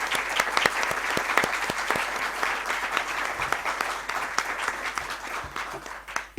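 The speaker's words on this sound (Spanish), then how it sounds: "Un aplauso para él." An audience claps steadily and enthusiastically for several seconds, the applause fading near the end.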